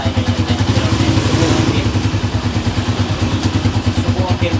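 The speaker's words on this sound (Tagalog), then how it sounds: "Okay, start the engine." A motorcycle engine idles with a rattly, uneven idle. It makes a loud, close, steady pulsing throb for the whole stretch with slight wavering.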